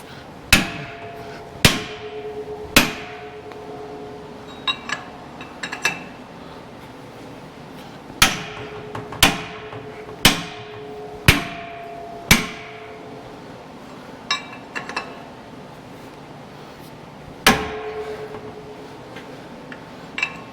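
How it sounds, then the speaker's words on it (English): Hammer blows ringing off a steel wrench while working on a rear axle seal of an International Harvester 1086 tractor: sharp metallic clangs in loose clusters of two or three, loud and close, with pauses between bursts. "Gotta hit the wrench."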